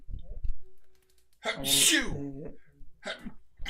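A single loud sneeze in the middle, preceded by a short breath and followed by a brief spoken reply.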